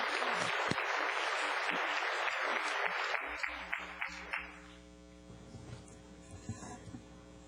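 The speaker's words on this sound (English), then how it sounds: "Another round of applause, certainly." Board meeting audience giving another round of applause for semifinalist scholars, a full burst of clapping that thins to scattered claps over a steady electrical hum.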